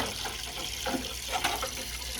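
A sink tap runs steadily while pottery wheel tools, a water bowl and a splash pan are rinsed, giving a soft, continuous hiss of flowing water with faint splashes and no talking.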